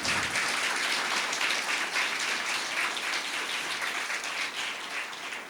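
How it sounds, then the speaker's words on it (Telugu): A church congregation claps loudly and steadily, a dense wash of many hands sustained throughout at close range with no voices standing out. "నమ్మిన వారు దేవుడికి గట్టిగా చప్పట్లు కొట్టు"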